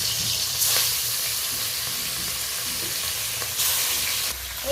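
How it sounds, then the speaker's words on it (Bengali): Pieces of bhetki fish from a home pond fry in hot oil, producing a dense, continuous close-up sizzle with brief louder surges of spattering. "এই দেখুন মাছের পিসগুলো আমার ভাজা হয়ে গেছে"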